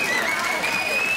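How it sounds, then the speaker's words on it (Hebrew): An audience at a comedy sketch show bursts into applause, a brief, dense wash of clapping at moderate loudness with a faint steady whistle-like tone running through it. "כל המזרחים כבר שוקים ומוחאים כפיים"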